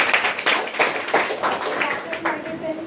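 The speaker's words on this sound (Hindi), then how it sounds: "एक बार जोरदार तालियां" Audience clapping at a motivational business event in India, a dense burst of hand claps across the clip with some voices mixed in and a few tonal sounds near the end.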